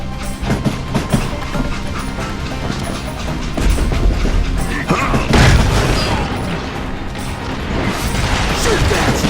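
Loud booming gunfire and crashing impacts from the Wild West shooter Call of Juarez: Gunslinger, dense and repeated over a game soundtrack, with voices shouting amid the shots.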